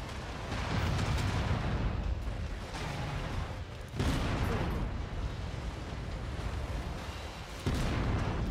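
Mech autocannon fire and explosions in the video game Mechwarrior 5: repeated heavy booms and bursts of gunfire rumbling continuously, with sharp new blasts at intervals over a dense battle din.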